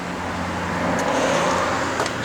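A 1967 Plymouth GTX with a 440 cubic inch V8 and Holley four-barrel carburetor runs with a steady, close, loud engine rumble and a low droning tone throughout.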